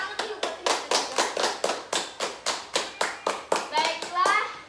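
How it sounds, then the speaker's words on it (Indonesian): Children in a fifth-grade classroom clap in a steady rhythmic beat, about a dozen crisp, evenly spaced claps, with a voice briefly heard near the end. "Tepuk tangan dulu buat Riha dan Nabila."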